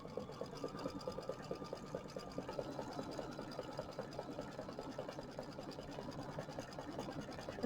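Domestic sewing machine running a satin stitch on a small earmuff band, a soft continuous rapid whirring chatter at low level, steady throughout with no voices.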